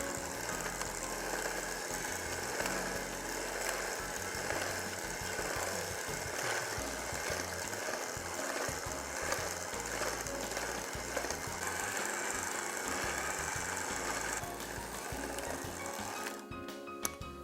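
An electric mixer runs continuously, blending a Christmas pudding truffle mixture of chocolate, marzipan and crumbs. Its steady, fairly loud motor whirr carries on throughout, then briefly rattles and clatters near the end.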